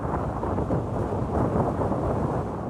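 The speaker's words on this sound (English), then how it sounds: "As powerful winds from Storm Floris set in." Steady, roaring wind from Storm Floris buffets the microphone, a dense low rumble that stays loud and constant throughout with no voices.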